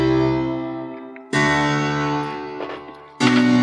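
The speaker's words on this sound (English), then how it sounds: "The first piece of the piano is a piano we did in Contact." Grand piano altered in Kontakt sounds as sustained, resonant chords, with a few long held tones and fresh strikes about every second or two. Close and full, with no voices.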